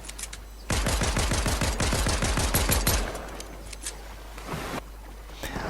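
Rapid assault rifle bursts from Fortnite, a loud run of tight, evenly spaced shots for about two seconds, then tapering into a quieter tail with one faint distant pop near the end.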